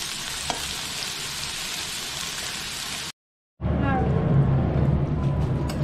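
Potatoes sizzle and crackle steadily in hot oil in a pan, a loud close frying hiss that cuts out briefly and then resumes, with some stirring.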